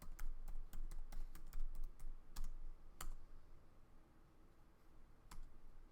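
Keystrokes clatter on a computer keyboard in quick irregular bursts of sharp clicks, close and fairly quiet, with a pause before a few final taps.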